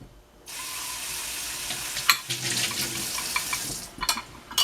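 A measuring cup is rinsed under a kitchen tap as a steady rush of running water starts up and keeps flowing, with a few clinks and knocks of the cup near the end.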